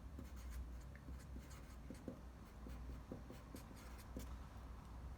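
A pen writes out a math example for expanding a factored expression, a soft continuous scratching with small tapping strokes, faint and close, with no talking over it.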